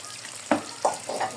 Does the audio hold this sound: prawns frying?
yes